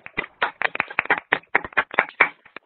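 A small online audience claps during a virtual session, sparse and uneven, with individual hand claps spaced irregularly. The applause is close and thin, like a few people clapping over microphones.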